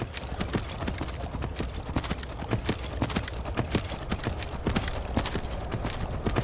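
Hooves of an undead horse in the Skyrim video game clip-clop in a steady, rapid rhythm throughout, close and moderately loud.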